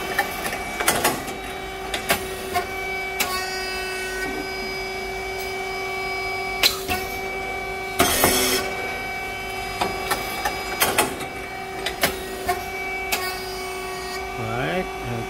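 A SYP5310T rice cake machine with triangle-shaped, Teflon-coated moulds runs on a mix of white and brown rice, its fan droning steadily beneath sharp mechanical pops and clacks that repeat every second or two.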